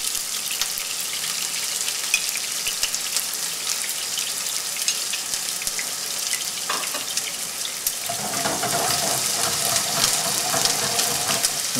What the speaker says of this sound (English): caramelizing some onions. And I have some garlic.